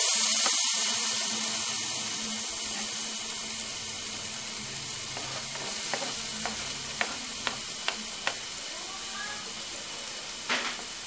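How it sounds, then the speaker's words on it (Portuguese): Garlic and onion sautéing in a pan give a steady close sizzle and hiss, with a few sharp clinks and scrapes of a utensil toward the end and no talking. "Refogo bem o alho e a cebola."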